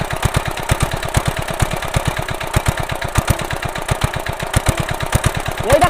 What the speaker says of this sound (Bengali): এখানে বসে বসে আমি এখন মেশিনটা কন্ট্রোল করছি